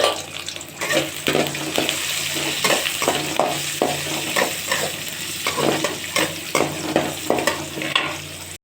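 Onions and dried red chillies sizzling in hot oil with tempering seeds for an okra fry, stirred in rhythmic scraping strokes, close and steady throughout with no speech.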